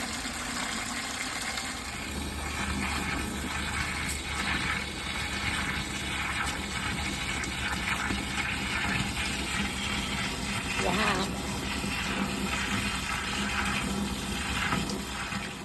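Water gushes and drains steadily from a dirty RV water heater tank for a long stretch with a constant rushing hiss; a voice briefly exclaims near the end.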